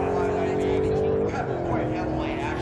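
A drag racing car runs at full throttle with its engine droning loud and steady, its pitch dropping at a shift partway through as the tires spin. Excited voices talk over the engine roar.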